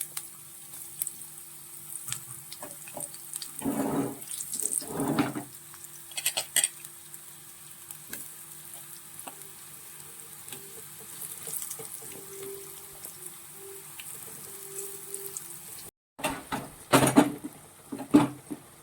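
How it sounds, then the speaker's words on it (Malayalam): Eggplant pieces drop into hot oil in a pan and fry, a close crackling sizzle punctuated by louder bursts of spattering and handling noises, with no one speaking. "നമുക്ക് ഈ ഓരോ വഴുതനങ്ങയും വറുത്തെടുക്കാം."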